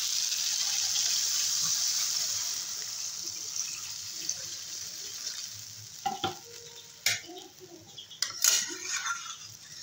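Water poured into a pan of khalla fish curry raises a loud, hissing sizzle that slowly fades, followed by scattered clinks and knocks of a utensil against the pan.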